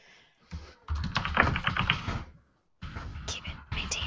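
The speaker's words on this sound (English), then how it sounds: "This keyboard is out of control." A computer keyboard clatters loudly in quick, dense bursts, with a brief pause before the typing resumes, close and prominent.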